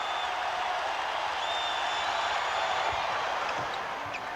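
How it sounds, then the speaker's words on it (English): An arena crowd boos Michael Jordan during a Bulls vs Magic playoff game, a continuous, dense roar of disapproval held at a constant level throughout. "The crowd starting to really get on him now."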